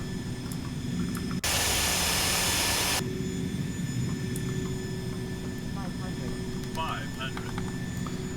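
Simulated Cessna light jet engines idling on final approach in X-Plane 11, a steady broadband whine and rumble that runs throughout, with a brief louder burst of noise near the start.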